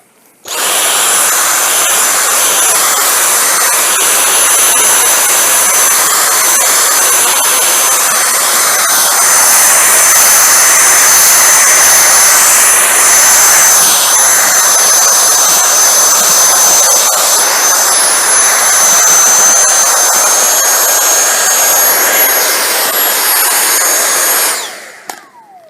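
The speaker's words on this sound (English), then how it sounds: "Now let's see how the vacuum performs." A Dyson V6 Mattress cordless vacuum sucks up seeds, peas and Fruit Loops with a loud, high-pitched whine. It runs steadily for about twenty-four seconds with slight changes in pitch as debris is drawn in, then shuts off.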